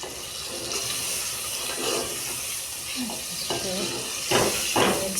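Yogurt stirred into simmering mutton gravy for achar gosht, a soft wet sizzle and stirring scrape that runs steadily, with a few brighter splashy strokes near the end.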